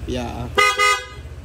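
A person talks briefly, then the stock horn of a 2024 Honda ADV 160 motor scooter beeps twice in quick succession, short, bright, close and fairly loud.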